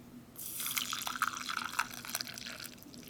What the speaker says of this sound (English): Maybe I'll add a little more water this time.